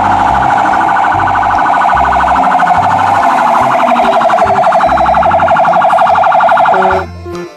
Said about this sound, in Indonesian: lihat di sini ada mobil pemadam kebakaran.